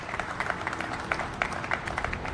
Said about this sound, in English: I just want to give Triangle Equities a round of applause